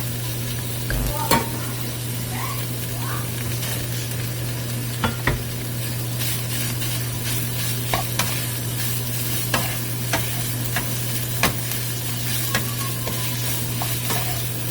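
Potatoes and meat stir-fry in a pan for curry, a steady close sizzle broken by sharp scrapes and clacks of a utensil at irregular intervals, with a low hum underneath.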